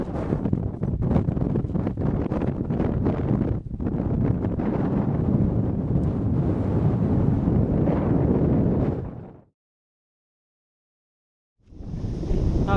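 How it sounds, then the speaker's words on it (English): Wind gusts hammer a Hilleberg Akto tent at a wild camp in Scotland, a loud close buffeting roar with flapping fabric that drops into sudden silence, then returns. "It's raining, still a bit windy,"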